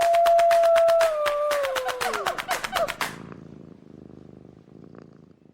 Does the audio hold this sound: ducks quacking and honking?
no